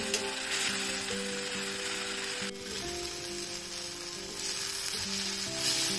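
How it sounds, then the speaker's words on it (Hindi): Chopped tomatoes and spices fry in hot oil with a steady, close, dense sizzle and occasional stirring scrapes, heard alone without talk. "टमाटर को भी हम जब तक भूनेंगे कि तेल सेपरेट ना हो जाए मसालों से।"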